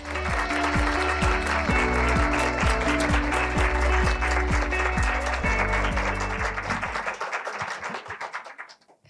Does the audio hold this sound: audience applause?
yes